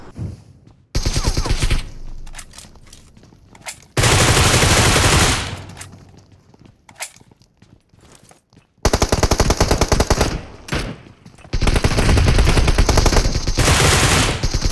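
Heavy automatic gunfire rattles through a fight in the BGMI battle-royale mobile game, coming in long, loud sustained bursts separated by brief quieter gaps with scattered distant shots.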